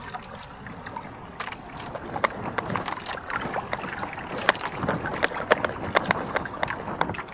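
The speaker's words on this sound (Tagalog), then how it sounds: "malakas pa rin ang hangin pero hindi masyado ang alon" Strong wind buffets the microphone aboard a small boat at sea, with steady roaring noise, sharp gusts and water slapping against the hull throughout.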